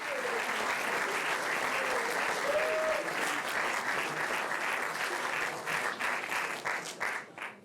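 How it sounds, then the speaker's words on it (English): Live podcast audience at a cricket-themed show giving a big round of applause, dense sustained clapping with a brief whistle, thinning into scattered claps at the end. "can you give us a massive round of applause for 3-time Ashes winner, Stephen Finn."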